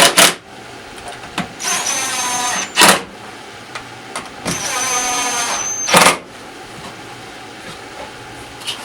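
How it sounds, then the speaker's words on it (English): A power drill drives screws into wooden boards for a homemade dust collector, several bursts of whirring with rising and falling pitch, separated by sharp clacks and short pauses, close and fairly loud. "I pre-drilled a hole, and then I'm just screwing the last 3 in right now."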